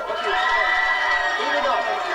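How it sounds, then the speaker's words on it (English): A room full of people at a behind-the-scenes shoot claps and cheers on cue, a dense, loud, continuous din of shouting voices and applause with no pauses. "We need you applauding, clapping, and doing nuts."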